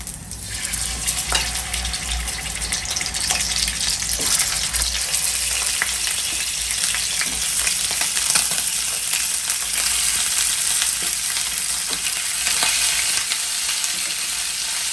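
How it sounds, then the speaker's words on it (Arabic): Chicken thighs fry in hot oil in a pan, giving a loud, steady, close sizzle that crackles without pause, with a few faint utensil clinks and no voices. "هنا كنبدا نضيف الدجاج"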